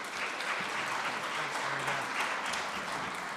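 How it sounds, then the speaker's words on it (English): An audience at a speech night competition claps to welcome the MC. The applause is even and continuous, a dense crowd sound heard from a middle distance at a modest level throughout. "let's give him a round of applause and welcome your MC tonight, Mike Politis."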